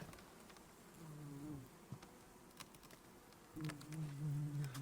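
Wasps buzz at a beehive while the bees are being fed, a close, droning insect hum that comes and goes in pitch, with soft taps and rustles.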